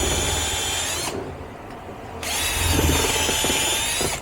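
A power drill spins a small pipe cleaner brush inside the caliper pin bores of a 2006 Jeep Liberty during a front brake job, a steady whine that runs for about a second, drops away, then picks up again and holds until the end.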